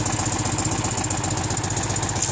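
Restored Citroën Méhari engine idling smoothly nearby, a steady, even rhythmic putter that runs throughout with no talk over it.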